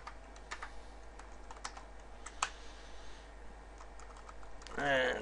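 Faint, scattered clicks of typing on a computer keyboard in a quiet room, with irregular keystrokes spread across a few seconds and a brief voice near the end.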